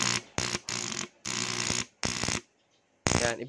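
Motorcycle starter relay chattering on a weak battery: a series of harsh buzzing bursts of about half a second each, separated by short silences and a longer pause before a final burst.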